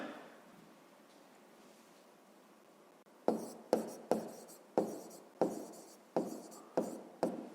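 Handwriting on paper during a fifth-grade math exercise: after about three seconds of near quiet, close pen strokes start up in a steady rhythm of short scratchy bursts, with nobody talking.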